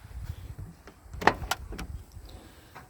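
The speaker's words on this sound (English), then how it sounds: "the door opens up" A truck door damaged in a wreck is opened, giving a few sharp clunks and clicks from the latch and hinge against a low rumbling background, close by with no talking.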